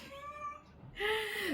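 A cat meows twice indoors, the first call a level drawn-out note and the second louder and rising before it falls away, with a short quiet gap between them.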